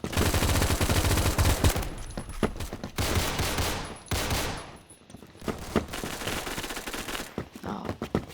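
Rapid automatic M4A1 rifle fire in the Roblox game Phantom Forces, several loud bursts of shots with short gaps between them, no talking over it.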